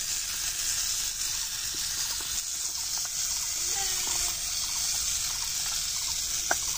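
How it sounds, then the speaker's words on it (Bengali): Curry simmering and sizzling in a kadai wok at an outdoor picnic, a steady low hiss with occasional faint clinks and background noise throughout. "আর এখন তরকারি রান্না করতেছে আর এক কড়াইতে"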